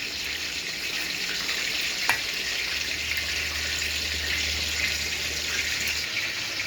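Steady hissing sizzle of onions frying in a pan, continuous and fairly loud, with a faint low hum underneath and no talking.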